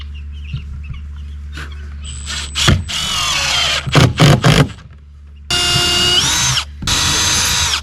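Power drill driving small finish screws into a wooden bluebird house, a few short whirring bursts followed by two longer sustained runs, loud and close, with no talking.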